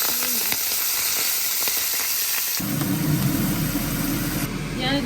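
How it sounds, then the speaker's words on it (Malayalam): Mussels frying over a high flame for a Kallumakkaya achar, a steady loud sizzle that grows stronger partway through, heard under continuous talking. "ഞാനിത് ഹൈ ഫ്ലെയിമിലിട്ട് വറുത്തുകൊണ്ടിരിക്കുകയാണ്."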